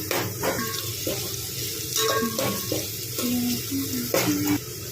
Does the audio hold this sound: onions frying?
yes